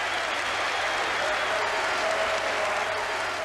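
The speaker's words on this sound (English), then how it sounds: "He gets applause from his manager and the bench and from the Tottenham fans as well." A football crowd of Tottenham fans applauds in a stadium, a dense, steady wash of clapping filling the whole stretch at an even level.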